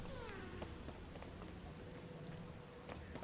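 Steady light rainfall in Zelda: Tears of the Kingdom, a soft continuous patter with scattered drops, quiet and even throughout with no talking.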